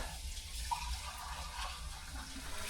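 Water runs from a tap fed by a jet pump and an on-demand water heater, a steady, faint hiss with a low hum underneath throughout.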